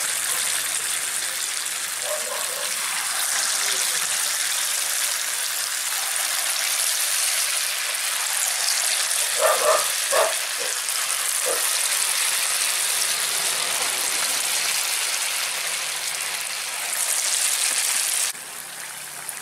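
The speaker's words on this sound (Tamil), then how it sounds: "எண்ணெய் காஞ்சிருச்சு, நம்ம சின்ன சின்னதாக போட்டுக்கலாம்." Small dollops of fermented idli batter fry in hot oil with a steady, rain-like hiss, broken by a few bubbling crackles near the middle before the sizzle eases at the end.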